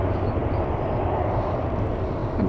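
Jet2 airliner, in service since 2023, taxiing on its own engines at Manchester Airport: a steady, continuous low engine rumble at a moderate distance, unchanging throughout and heard alone.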